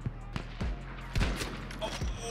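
Video game gunfire: a long-range shotgun blast followed by several sharp shots in quick succession, loud and close, with excited voices and background game noise.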